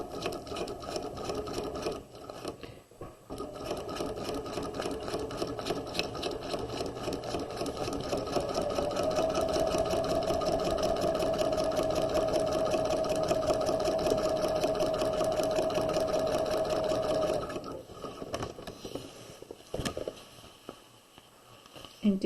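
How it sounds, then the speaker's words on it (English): A sewing machine runs a long basting stitch down the center front of a quarter-zip jacket, a steady close mechanical whir with fast needle clatter that starts, holds for several seconds, then stops. "I'm going to run a basting stitch down the center front of the garment on both sides at 5/8 of an inch"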